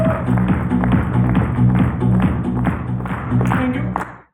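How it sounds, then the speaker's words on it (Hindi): An audience claps steadily throughout, a dense loud burst of applause at a direct-selling business talk, mixed with a sustained tone and voices, then cuts off abruptly at the end. "नेक्स्ट एक बार जोरदार ताली।"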